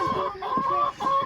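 Chickens cluck near a homestead coop: a close, clear run of several short, throaty clucks in an uneven rhythm, with no talking.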